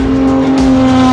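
A Porsche 917K racing car's engine roars loud and steady at close range for a short burst, with a strong sustained tone and no voices.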